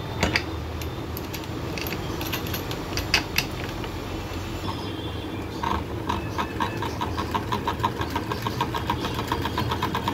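A coil winding machine for a chimney motor coil winds 34 gauge wire with a steady motor whir and a fast, regular ticking that becomes more distinct toward the end, close by and with no speech.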